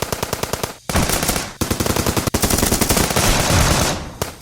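Sustained loud machine-gun fire as a sound effect for close-range combat in a Vietnam-era miniature wargame, rapid rattling bursts with brief gaps, dense and close.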